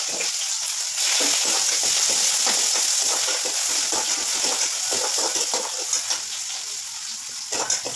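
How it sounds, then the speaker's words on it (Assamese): Onion with cloves, cardamom, cinnamon and bay leaf fries in hot oil in a home kitchen. A loud, close, continuous sizzle is broken by scraping stirs, and nobody speaks. "পিঁয়াজ এই মছলাখিনি ফ্ৰাই কৰি লৈছোঁ"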